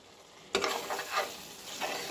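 Beef curry cooking in a pan, stirred with a utensil after a quiet moment: a sudden scrape and sizzle, then several softer stirring strokes with a low frying hiss underneath, close and moderately loud, no talking.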